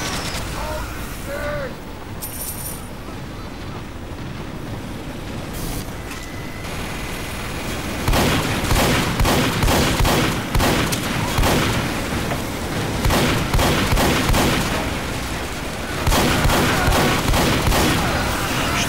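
Sentry turret gunfire in Team Fortress 2, rapid repeated bursts of shots starting after a quieter stretch of game ambience and continuing in rattling volleys to the end.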